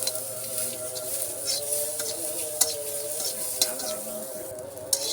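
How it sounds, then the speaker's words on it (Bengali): Chilies, onion and garlic stir-frying in a pan for a mashed bharta, a continuous bright sizzle with occasional scraping clicks of a spatula against the pan, steady and close with no talk. "কিছুক্ষণ নেড়ে চেড়ে ভেজে নিব"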